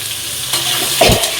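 Potato and papaya curry sizzles steadily in a pan as it is salted, with a brief stirring scrape near the end of the short burst of frying.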